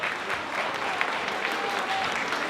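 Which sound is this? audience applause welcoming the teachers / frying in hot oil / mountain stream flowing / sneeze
audience applause welcoming the teachers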